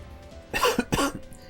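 Two quick, loud coughs close to the microphone from a gaming commentator, with a quiet background bed of game music or hum.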